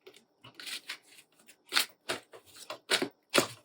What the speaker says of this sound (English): I'm going to shuffle the regular deck